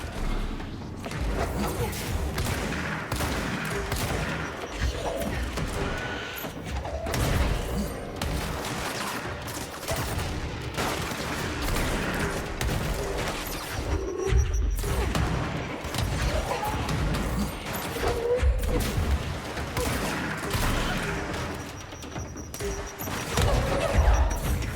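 Combat in the video game Control fills the scene with explosions, dense gunfire bursts, crashes and thuds, loud and continuous throughout.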